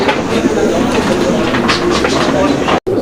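Fancy pigeons coo steadily inside a cage, loud and close, for about three seconds, and the sound breaks off briefly near the end.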